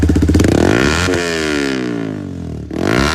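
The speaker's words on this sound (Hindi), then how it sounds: "अपने पास है दो MT-15 दोनों में फुल सिस्टम एकरा पॉइंट का एग्जॉस्ट लग रखा है।" A Yamaha MT-15 fitted with a full-system aftermarket exhaust revs hard and close, its engine note climbing and then dropping to a lumpy idle. A brief cut-off follows near the end, then another rev starts. No one speaks.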